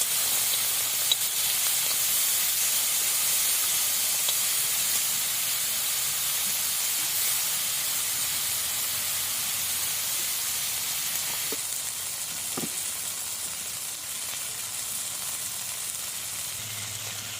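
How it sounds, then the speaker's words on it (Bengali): Fish pieces frying together in hot oil in a wok for a Bengali jackfruit-and-shrimp dish, giving a steady, dense sizzle and hiss that runs throughout, with a couple of brief clicks near the end. "সবকটাই একসঙ্গে দিয়ে দিলাম, আমি ভেজে নেবো মাছগুলোকে।"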